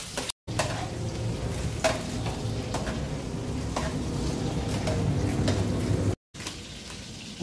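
Butter sizzles in a frying pan while it melts before garlic and ginger go in, a steady crackling fry with occasional stirring scrapes, broken by two brief silent cuts.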